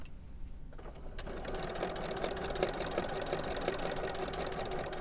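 A sewing machine stitches a dogbone-shaped Christmas stocking, starting after a brief quiet moment and then running steadily and close up in one continuous, even mechanical whir.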